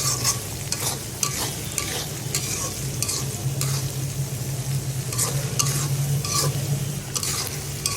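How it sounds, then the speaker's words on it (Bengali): Dried churi fish from Cox's Bazar fries with onion and garlic in a pan, giving a steady close sizzle with repeated stirring scrapes and clinks and no talk. "পেঁয়াজ রসুনের সাথে শুটকিটা একটু ভেজে রান্না করলে টেস্টটা আরও দ্বিগুণ বাড়ে।"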